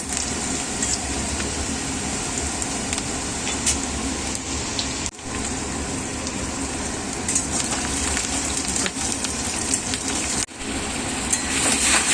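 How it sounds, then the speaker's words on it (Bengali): Potatoes fry in hot oil for a mutton curry, a continuous, close sizzle that holds steady throughout with a couple of brief dips, and no speech. "আলুটা ভাজা হয়ে গেছে"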